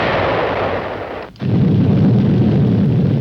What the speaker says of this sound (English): Its first piece of atomic artillery was successfully tested, hurling its atom warhead 20 miles.